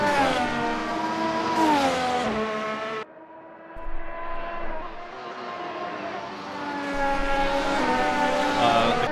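Race car engines in a racing game of the Australian Grand Prix at Melbourne whine loudly at high pitch as they rev and shift gears, dropping briefly before climbing into a sustained scream again.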